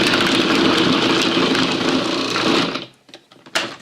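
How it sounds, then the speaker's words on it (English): Blender blades chop frozen bananas into salted caramel macchiato nice cream, making a loud, dense, steady grinding whir that runs for almost three seconds and then cuts off, leaving a few faint clicks. "we're going to stop frequently and push the bananas down and spread them out so that the blades don't get too stressed"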